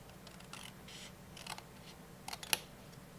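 Card stock is cut along a pencil-marked score line, likely with scissors, giving a few faint, brief snips and crisp clicks spaced over a quiet background, with one sharper cut near the end.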